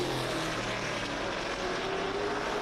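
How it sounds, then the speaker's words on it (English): Grand National Super Series stock cars on a speedway straightaway, heard as a loud, steady, unbroken engine roar filling the whole stretch with no voices. "Experience the speed of these Grand National Super Series machines and just how loud they are."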